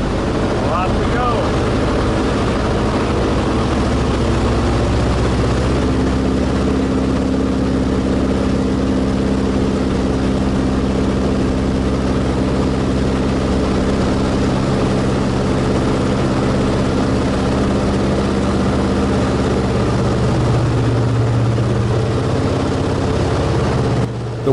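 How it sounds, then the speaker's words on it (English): A Fairchild 24W with its Warner engine runs at takeoff power, a loud, steady propeller and engine roar that fills the whole stretch with a constant droning tone and a slight shift in pitch near the end. "Warner is super loud once the power comes up"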